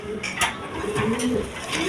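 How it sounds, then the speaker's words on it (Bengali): Big pigeons at a pigeon farm coo in soft, throaty warbling phrases, close by, with a faint background murmur and no clear talk over them. "একদম বিগ সাইজের কবুতর"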